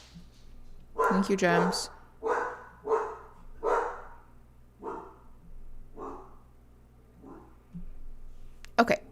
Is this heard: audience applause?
no